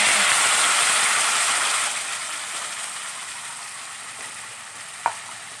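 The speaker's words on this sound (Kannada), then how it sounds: "ಈಗ ಎಣ್ಣೆ ಕಾಯ್ದೈತೆ. ಈಗ ಅದಕ್ಕೆ ಇಲ್ಲಿ ರುಬ್ಬಿಟ್ಕೊಂಡಿದ್ವಲ್ಲ ಆ ಮಸಾಲೆನ" Freshly ground masala for egg sambar hits hot oil in a pan, giving a loud, close hiss that eases off gradually and ends with a single sharp clink.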